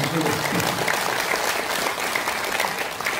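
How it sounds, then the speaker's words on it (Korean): Steady applause from an audience fills the whole stretch, dense and even, with a voice faintly mixed in beneath the clapping. "그래서 박수 한번 치면"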